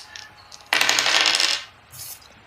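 Dice rolled for a Canadian football board game: a sharp rattling clatter on a hard surface lasting about a second, followed by a shorter, quieter rattle as they settle.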